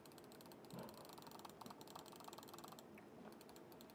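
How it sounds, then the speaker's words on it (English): Rapid clicking of a computer mouse during mobile Roblox play, a steady run of small sharp clicks repeating throughout, fairly quiet and close with no talk. "Sorry about the mouse clicks."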